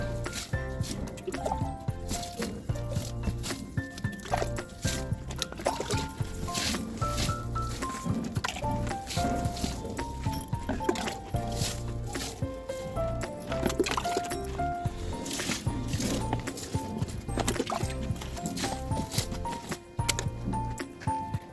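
Trichoderma viride powder is stirred into a bucket of water with quiet, continuous sloshing, dripping and squishing, soft and close, with no talking.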